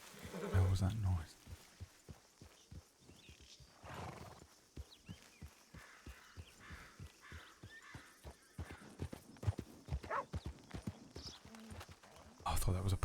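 In a video game, a deer's hooves clop along like a horse's, with an uneven run of soft hoofbeats and a brief whinny-like call at the start and end over a quiet outdoor backdrop.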